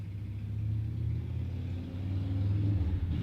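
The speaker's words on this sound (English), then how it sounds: "Fucking motorcycles, your stupid loud ass." Loud motorcycles pass by outdoors, heard indoors as a low rumbling drone that rises and swells toward the end, with no talk over it.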